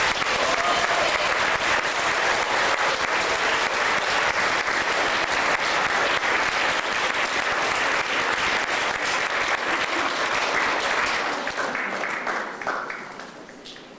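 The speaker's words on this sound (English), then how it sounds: "And let's give them a round of applause." Sustained audience applause for students at a Peterborough event, loud and dense throughout before tapering off in the last couple of seconds.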